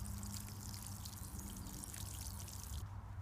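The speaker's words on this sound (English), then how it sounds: "So I'm going to water it now with rainwater." Rainwater poured from a can onto a newly planted blueberry bush on an allotment, a steady close splashing trickle running unbroken and fairly loud.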